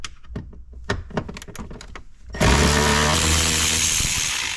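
Plastic trim panel pried off a Ford F-150 dashboard during a screen upgrade, giving a rapid run of close, sharp clicks and snapping thunks before a loud, steady whirring rasp takes over for the rest.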